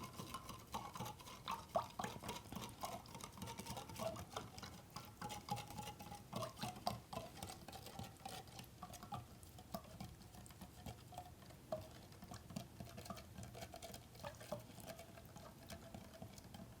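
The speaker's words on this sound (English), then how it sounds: "I want to mix all of the salt into water until it dissolves." Salt is stirred into a container of water, producing a faint, continuous patter of small scraping and clinking taps throughout, with no talking.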